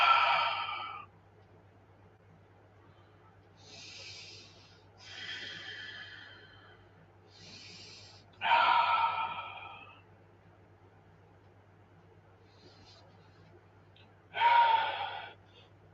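Breathing during a guided meditation: sharp, loud breaths and gasps alternate with softer exhales, separated by long quiet pauses over a low steady hum.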